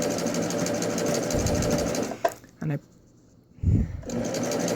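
A sewing machine with a ruffler foot runs steadily with a rhythmic mechanical clatter, pauses briefly with a couple of clunks from a worn knife, then starts up again.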